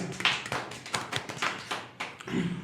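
A small group claps at a studio round-table talk show, with scattered, uneven hand claps spread across a few seconds, close and moderately loud with no talking.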